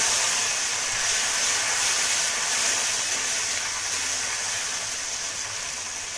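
Tomato frying in a pan, a steady bright sizzling hiss with no breaks that eases off slightly toward the end.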